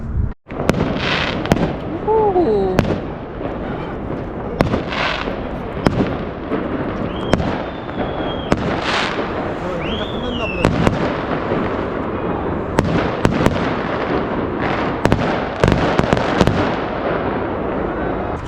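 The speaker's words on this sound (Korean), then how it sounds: "행사 끝나고 불꽃놀이를 아주 소소하게 하네요" Small fireworks pop and crackle in a steady scattered string of bursts after an evening event in Tbilisi, Georgia, with a few whistling rockets and people chattering nearby.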